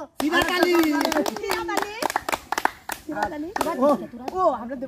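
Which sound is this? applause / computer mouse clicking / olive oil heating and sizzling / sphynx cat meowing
applause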